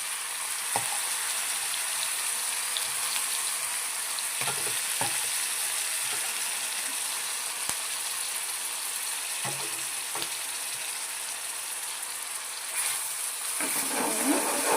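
Onion paste sizzles and fries steadily in a pan with a few spoon-stirring scrapes, a close, continuous hiss with no talk, for a green tuvar (pigeon pea) vegetable dish.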